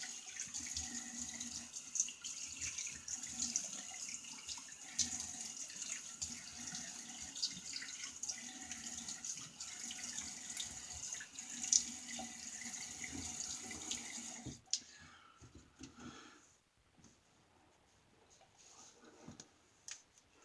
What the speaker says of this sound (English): Let me get a quick rinse.